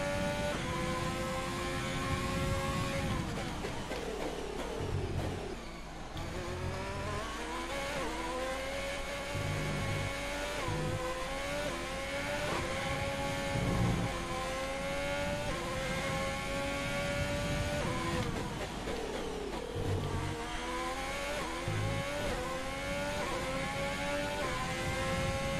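Ferrari-powered Formula 1 car engine in the racing video game F1 2020, a steady high-pitched whine with rising and falling pitch sweeps through gear shifts, loud and continuous throughout without voices.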